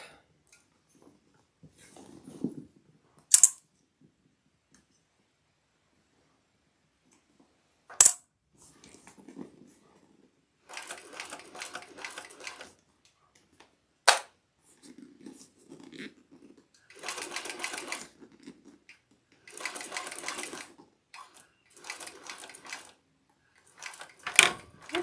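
A sewing machine stitches a Shamballa-pattern bag on a flatbed attachment in short separate bursts of rapid whirring, with sharp clicks and clacks between runs and quiet pauses in between.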